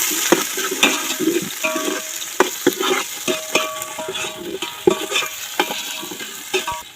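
Chopped tomato pieces sizzle in hot oil with ginger in a pan for village-style biryani, a close, continuous frying hiss broken by repeated stirring scrapes and clinks, with no one talking.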